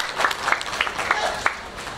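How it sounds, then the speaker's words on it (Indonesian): Scattered hand claps from a small group at an art award ceremony, irregular and moderately loud, with faint voices murmuring underneath. "Untuk ini kita kasih tepuk tangan yang meriah buat para seniman kita."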